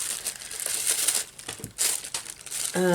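Plastic packaging from craft paints crinkles and rustles continuously during unboxing, close and fairly loud, with brief crisp bursts as it is handled.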